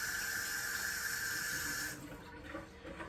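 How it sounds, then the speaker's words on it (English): Tap water runs steadily into a sink during handwashing in a home kitchen, a close continuous hiss for about two seconds, then stops, leaving faint drips and quiet movement. "I'm just going to wash my hands."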